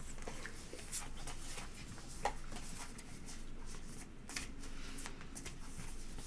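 Tarot cards are shuffled by hand in a steady, close riffling and sliding patter that runs throughout, with a faint voice now and then in the background.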